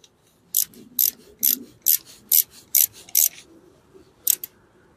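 Ratchet with a 10 mm socket snugging an ignition coil bolt on a 2012 Toyota RAV4 2.5L, eight sharp close clicks in a quick even series, then a pause and one more click, with no talk.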